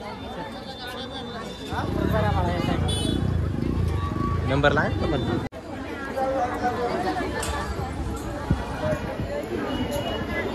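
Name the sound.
crowd chatter at Kalaram temple, Nashik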